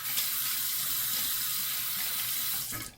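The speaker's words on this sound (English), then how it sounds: "I needed to rinse out the sink" A faucet runs steadily into a sink while it is rinsed out, a constant close hiss of water that cuts off at the end.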